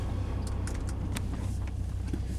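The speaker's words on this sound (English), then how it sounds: "as we go over these potholes and stuff over here at the park, but there's a lot of noise coming from the front end of the car" Front-end clunks and rattles from a 2006 Saab 9-3 driving over potholes in a park, faint knocks scattered over a low, steady rumble of the moving car.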